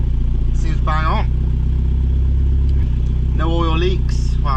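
A repaired Volvo car engine runs at a steady idle, a loud, even low hum throughout, while someone talks over it in two short bursts.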